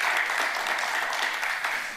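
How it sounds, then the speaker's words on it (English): Audience applause for a filmmaker at a film screening, a steady wash of many hands clapping together, fairly loud and continuous throughout. "So let's give him a round of applause."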